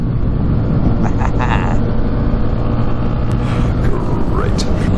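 A motorcycle exhaust with its bulky pre-silencer removed gives a loud, steady engine rumble while riding, with wind noise throughout.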